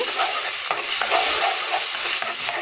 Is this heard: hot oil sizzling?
yes